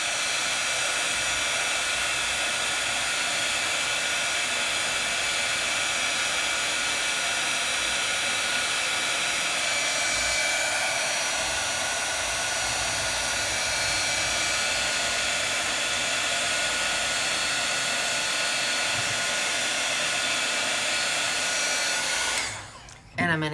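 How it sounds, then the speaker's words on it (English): A heat tool blows hot air over a glossy craft die-cut, a steady close whooshing hiss that holds for over twenty seconds before cutting off with a short clunk at the end. "I'm gonna flip it around, glossy side up, and I'm gonna add some more heat."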